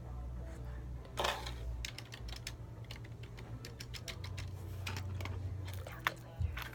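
Fingers tap on a flat, low-profile computer keyboard at an office desk, a close, soft clatter of quick, irregular keystrokes with short pauses between bursts.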